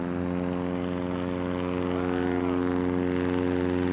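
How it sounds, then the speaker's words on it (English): A Legend Cub STOL aircraft makes a very short takeoff during a STOL demo at EAA AirVenture, its propeller engine droning loudly and steadily throughout, up close. "Launching the Legend Cub. Wow, short, very, very short takeoff."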